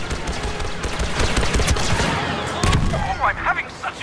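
Rapid blaster fire from a Star Wars Battlefront II game battle, dense overlapping volleys of shots across the whole stretch, with a few sharper bursts near the end.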